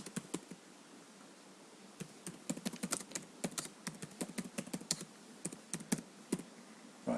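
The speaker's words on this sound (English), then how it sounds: "if we type in something like" Quick, irregular clicking of a computer keyboard as someone types a short message, crisp light keystrokes close by with brief pauses and no speech.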